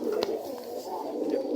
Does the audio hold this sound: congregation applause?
no